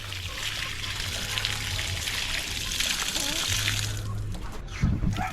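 Water runs steadily with a hissing, splashing flow from a newly installed faucet at a chicken coop fed by PPR pipe, close and continuous, with someone talking over it.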